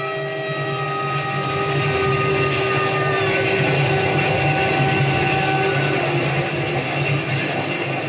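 A train rolling past at steady volume, a dense continuous rumble with sustained tonal whines running through it for the whole stretch, no voices.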